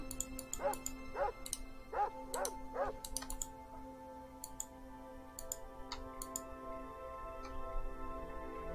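Four quick dog barks from the 1998 Black Isle Studios video game Fallout 2 come in a tight cluster near the start, followed by sparse clicks and ticks over a steady low hum, with a brief murmured voice.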